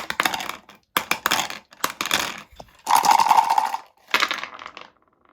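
Six dice are rolled for a technology check in a board game based on Operation Market Garden. Several separate clattering bursts follow one another, close and crisp, as dice tumble and settle on a hard surface, with brief pauses between rolls.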